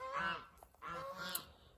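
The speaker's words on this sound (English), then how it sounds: "they were perfectly healthy birds" Birds in a greenhouse give two nasal, goose-like honks in close succession, separated by a short pause, fairly quiet with no other sounds around them.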